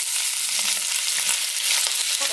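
Potatoes frying in a pan at home give off a steady, close, continuous sizzle with crackling bursts, loud and unbroken, no voices present.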